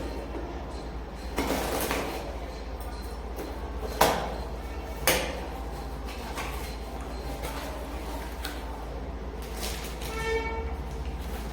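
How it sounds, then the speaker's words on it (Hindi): Two wireless microphones, a Boya BY-M1 and a Grenaro, being unboxed: rustling packaging, plastic handling and a couple of sharp clicks and thuds, close and moderately loud over a steady low hum. "अभी मैं दोनों को इसे अनबॉक्स करता हूँ।"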